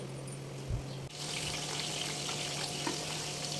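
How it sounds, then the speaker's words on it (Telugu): Drumstick pieces frying on a low flame for a mango pickle, a soft steady sizzle with a brief clunk near the start, quiet and continuous. "లో ఫ్లేమ్లో పెట్టుకుని వేపుకోండి"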